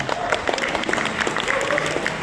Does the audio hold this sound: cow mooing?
no